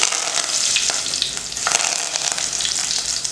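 Steady crackling sizzle of mustard seeds, cumin and fenugreek popping in hot oil, continuous and close, with scattered sharper pops throughout.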